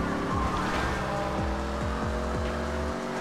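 Ford Mustang engine note in GTA 5, dropping as the throttle lifts, with repeated downward-sweeping pops and burbles, steady and fairly loud with no talking.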